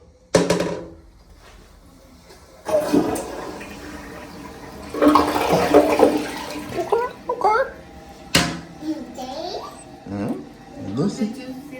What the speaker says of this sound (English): Let's do a little flush test.